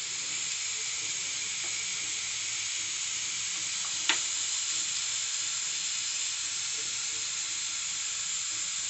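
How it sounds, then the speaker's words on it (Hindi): Oil heating in a hot kadhai on a gas stove gives a continuous, even sizzling hiss, with one brief sharp click partway through. "कढ़ाई गर्म हो गया है, अब हम इसमें डालेंगे 3 से 4 बड़े चम्मच तेल।"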